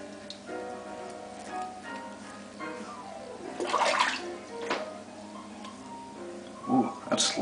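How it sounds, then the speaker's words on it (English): Water running and splashing as shaving lather is rinsed off during a wet shave, a steady close gush with louder sloshing bursts near the end. "Try and get some of this rinsed off."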